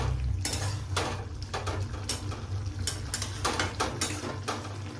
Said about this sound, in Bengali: আমি একটা প্লেটে ঢেলে নিচ্ছি।